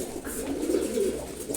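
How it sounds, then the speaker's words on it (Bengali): Khaki pigeons coo in a soft, continuous low burble, close and alone for a moment. "এখানে খাকি কবুতর আছে"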